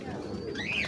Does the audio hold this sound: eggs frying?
no